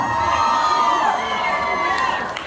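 A festival audience at an outdoor concert shouts and cheers loudly and continuously, many voices blending into a sustained roar close up.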